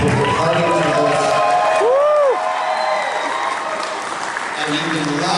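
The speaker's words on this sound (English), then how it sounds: "even louder round of applause for the vendors who load in, or load out, put their heart into this" Applause and scattered whoops from the crowd at a fan convention, sustained clapping with a voice speaking over it and a brief whistle-like sweep near the middle.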